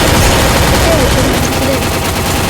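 Rapid gunfire bursts from a shooter video game, loud and continuous through the whole stretch, with a voice talking underneath.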